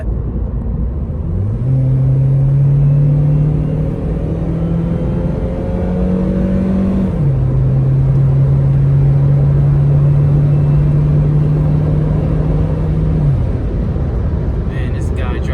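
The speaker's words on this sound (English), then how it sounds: "I have a little room to floor it, so let's go ahead and see what this bad boy got" An Acura RSX accelerates hard at full throttle from inside the cabin, its engine note climbing loud and steady through one gear, dropping at a shift, then pulling up again.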